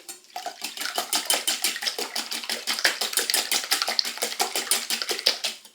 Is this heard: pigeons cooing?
no